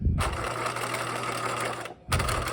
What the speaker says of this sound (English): Edge stitch at 1/8 of an inch, so right at the edge of the presser foot.